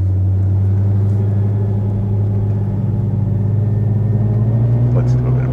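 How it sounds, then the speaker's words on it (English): A drag car rumbles along at a roll race, a steady loud low engine drone with a faint pitch rise, heard from nearby. "here comes the drag car"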